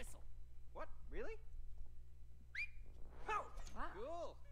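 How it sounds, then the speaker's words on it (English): A short two-note whistle to summon a flying nail in the co-op video game It Takes Two, with game chirps and voices around it and a steady low hum beneath. "Just whistle."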